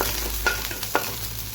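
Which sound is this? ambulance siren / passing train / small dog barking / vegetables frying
vegetables frying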